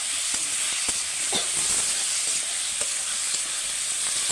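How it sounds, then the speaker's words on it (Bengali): Vegetables stirred and fried in spice paste in a pan for a fish curry, a loud, bright, constant hissing sizzle with occasional light knocks of a spatula, close up and without voices. "এবার আমি সবজিটা দিয়ে মশলার সঙ্গে ভালো করে নেড়ে নেবো"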